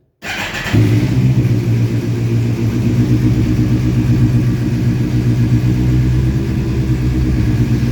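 A motorcycle with a full-system aftermarket exhaust cold-starts after a brief starter whir and settles into a loud, steady, rumbling idle with a deep throaty exhaust, close by.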